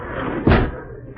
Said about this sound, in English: Wait, I'll close this door.